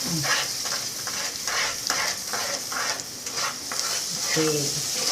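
Seven cup cake batter of coconut, milk and ghee being stirred in a pan, with steady rhythmic scraping strokes over a continuous soft sizzle. No one speaks.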